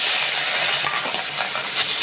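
Prawns fry in hot mustard oil in a wok, giving a loud, steady hiss and sizzle that continues unbroken with slight crackling flares and no talking.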